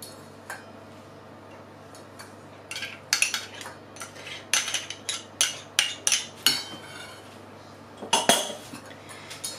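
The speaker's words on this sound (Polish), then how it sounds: "Do naszego sera wlejemy mleko. I damy nasze masło." Cheese, milk and butter being mixed in a bowl for a homemade Christmas cheesecake, heard as a run of sharp utensil clinks and taps against the bowl, clustered and fairly close, after a quiet start.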